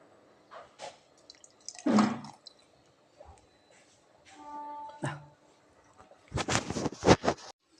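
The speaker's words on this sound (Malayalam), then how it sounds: "ആ മോരിലേക്ക് ഒരു ഗ്ലാസ് തൈര് ഇട്ട് നല്ല പുളിയുള്ള തൈര് ഒഴിക്കണം" Sour curd is poured into buttermilk for a papaya yogurt curry, giving a few separate wet squishing and dripping splashes, with a louder, longer burst of liquid near the end.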